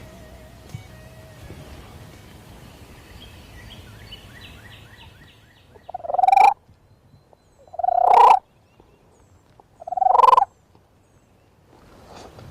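Three loud wild turkey gobbles from just behind a hill ring out on public land during turkey hunting, evenly spaced about two seconds apart, rising out of a quiet outdoor background.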